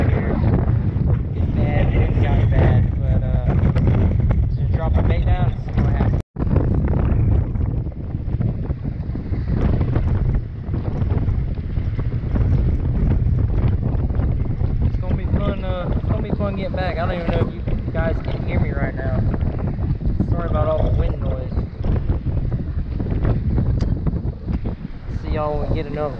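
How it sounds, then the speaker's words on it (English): Strong wind buffets the microphone on a bridge during a fishing trip, a loud, continuous roar and rumble that lasts throughout, with voices talking beneath it. "It's like windy as crap out here."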